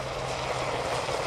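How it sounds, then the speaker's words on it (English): A brief, dense roar of military helicopter rotors and engines as they nose up to land at an air show, loud and continuous with a low throbbing beneath the noise. "Helicopters now nose up, coming into the quick stop."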